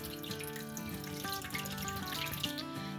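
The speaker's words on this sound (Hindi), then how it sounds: "2 कप के करीब इसमें पानी डालें।" Water pours from a tap into a cooking pot holding chicken drumsticks, a steady close splashing stream heard alone under faint background music.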